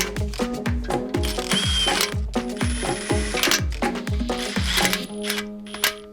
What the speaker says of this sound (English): right now we are torquing down the main caps to the block with our new bearings in there